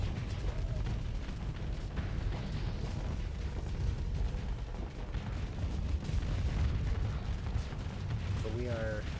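Spaceship weapons in the space combat game Starsector fire continuously, a dense, loud barrage of booming shots and blasts running throughout, with faint higher electronic tones near the end.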